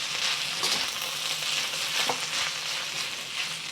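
Fried rice sizzles loudly in a hot pan as oyster sauce and soy sauce are stirred through, with steady frying hiss and occasional scraping of the spatula, close up and without voices.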